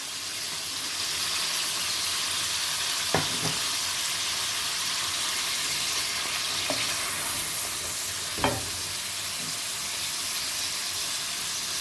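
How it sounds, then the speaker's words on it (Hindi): Finely chopped onion frying in oil for a chicken tabahi karahi: a steady, close broadband sizzle throughout, punctuated by a few sharp spatula scrapes and taps against the pan. "इसमें हम प्याज डाल लेंगे जी। मैंने एक प्याज है वो बारीक काटा हुआ था।"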